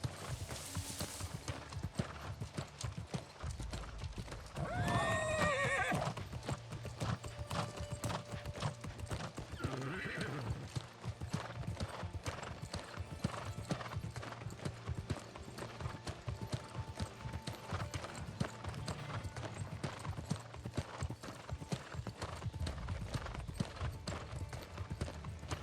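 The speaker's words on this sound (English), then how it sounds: "Got my horse, at least, in the game." A horse in the video game New World: Aeternum trots with a steady clip-clop of hooves throughout, and a clear whinny rises near the start above a low, constant game background.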